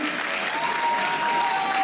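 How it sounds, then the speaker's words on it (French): A crowd applauds steadily and densely for a moment, filling the whole space, with a faint tone underneath. "Applaudissez-vous les filles."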